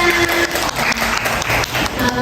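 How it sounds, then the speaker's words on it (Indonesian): Seminar audience applauding in an indoor business talk on pudding production, a steady dense wash of claps at close range that holds for the whole stretch with no voices over it. "tepuk tangan semuanya"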